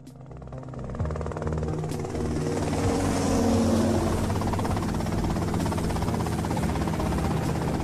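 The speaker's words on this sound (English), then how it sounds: "Okay, that's them in the chopper." A helicopter in GTA Vice City drones steadily, its loud rotor and engine buzz building after a sharp start and holding close and constant with no talk.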